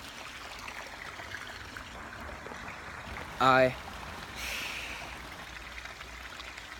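A creek flows in a soft, steady, continuous wash, interrupted by a brief sharp burst and a short word of speech.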